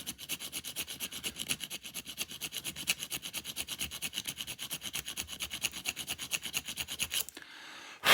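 A hand file rasps across the metal of an airsoft pistol CO2 magazine in rapid, even back-and-forth strokes for several seconds, then stops abruptly.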